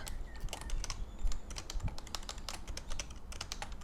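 Rapid, uneven clatter of keys on a computer keyboard during a Minecraft game session, close and steady, with a low background hum underneath and no one talking.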